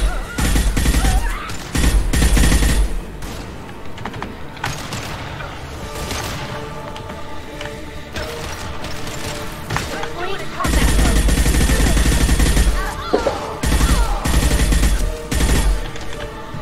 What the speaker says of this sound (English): It's cool shooting those, making the move through them.